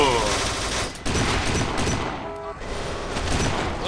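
Rapid gunfire in the shooter video game Kane & Lynch 2, dense bursts of automatic fire crackling loudly and almost continuously, with a voice reacting over it.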